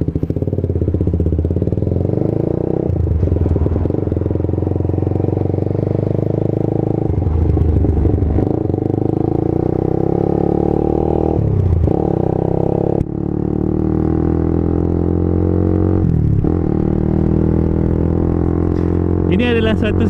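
Honda CBR 150R 150cc motorcycle idling with a rough, uneven popping engine note, steady and close throughout with a few blips of revving; no one talks over it.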